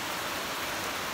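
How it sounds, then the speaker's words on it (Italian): Heavy rain pours down as a dense, steady hiss of broadband noise with no breaks and no other sounds. "qua è iniziato a piovere di brutto"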